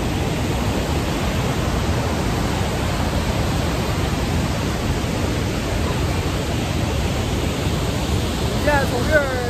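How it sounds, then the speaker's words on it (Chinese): The Rhine Falls waterfall roars as a dense, unbroken wash of broadband noise, loud and constant from start to finish, with a faint trace of a voice near the end. "那边是宏伟的莱茵瀑布的右段"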